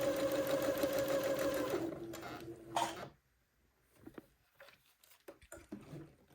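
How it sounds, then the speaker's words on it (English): A sewing machine sews stretched elastic directly onto the fabric of a child's jumpsuit, a close, steady whir that stops after about three seconds. Faint handling sounds follow. "So I just go ahead and sew my elastic directly to the fabric."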